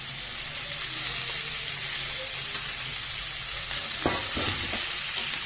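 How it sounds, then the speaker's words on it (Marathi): Chopped red pumpkin sautéing in a pan with turmeric, a loud continuous hiss of frying with a few scraping spatula strokes toward the end. "हे कापलेलं डांगर त्याच्यामध्ये टाकून द्यायचं"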